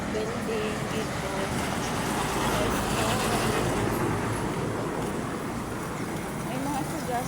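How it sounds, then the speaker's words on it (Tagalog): Busy street traffic with many vehicles passing in a steady, broad roar of engines and tires, loud and continuous, while a person talks over it. "Traffic na guys. Traffic. Dami mga sasakyan."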